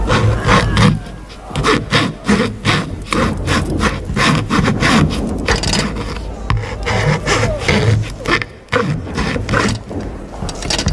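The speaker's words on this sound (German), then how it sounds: "Säge." A saw cuts through wood as a radio-play sound effect, loud and close, with steady rasping back-and-forth strokes repeating rapidly for the whole stretch.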